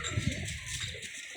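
Pigeons coo in a low, soft murmur at a loft kept by a pigeon fancier, a few close rounded calls over a steady bed of rustling and background hiss.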